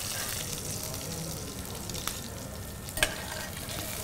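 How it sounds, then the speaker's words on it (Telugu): Potato pieces frying in groundnut oil in a pan, a steady close sizzle with a couple of brief stirring clinks, no talk over it. "సో పొటాటోస్ ఇలా లైట్ బ్రౌన్గా ఫ్రై చేసుకోవాలండి."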